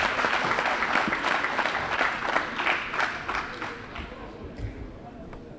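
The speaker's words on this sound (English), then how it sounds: "Can we give her a big round of applause?" Audience applause at a community imbizo in Saldanha, a dense round of clapping from a gathered crowd that runs strongly for a few seconds and then thins out and tapers off.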